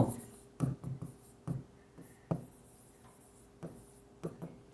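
Writing on a board or paper during an accounting lesson, short scratchy strokes in uneven bursts with pauses between them, close and faint, no speech over it.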